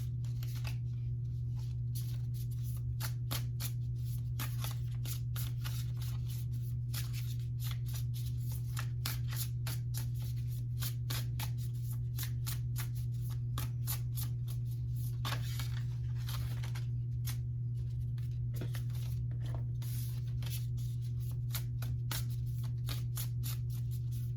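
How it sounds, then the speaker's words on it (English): An oracle deck being cut and shuffled produces repeated crisp card riffles and snaps, steady and close, over a constant low hum, with no talking. "So we're going to cut the Sacred Creators deck there."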